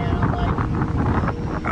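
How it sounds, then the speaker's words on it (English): Strong gusty wind buffeting a microphone on a coastal cliff near a beach and natural bridges, a continuous low roar with rushing turbulence and faint voices mixed in. "Now this gust is coming."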